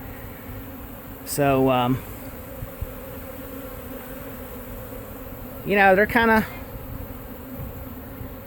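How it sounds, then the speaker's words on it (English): A swarm of honeybees buzzing in a steady drone during a mobile home bee removal in Lakeland, Florida, with someone talking briefly twice over the hum. "I like seeing a lot of bees out and roaring"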